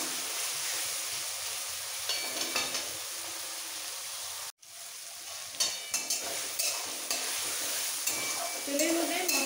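Spices and tomato stir-fry in hot oil for a paneer bharta, giving a steady close sizzle. A spoon scrapes and clatters against the pan in scattered knocks, and the sound cuts out briefly near the middle.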